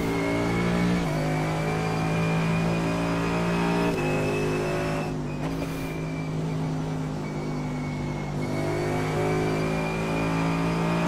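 Mercedes-AMG GT3 race car engine in the iRacing simulator at Mosport, a loud continuous drone that rises and drops through gear changes across the whole stretch, with no talking.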